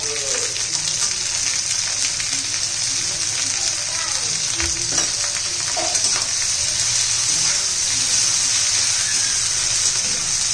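Okra and potato pieces sautéing with turmeric in a pan give a steady, loud sizzle and fry throughout, with occasional stirring scrapes and no talking.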